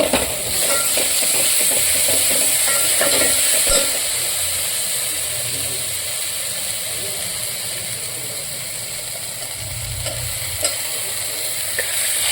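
Ginger garlic paste sizzles in a pan as it fries for chicken pulao, a steady crackling hiss under faint stirring and scraping clatter, continuous throughout with no voices.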